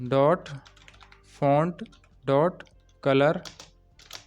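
Computer keyboard typing as Excel VBA code is entered, with faint key clicks sitting underneath someone speaking in short phrases.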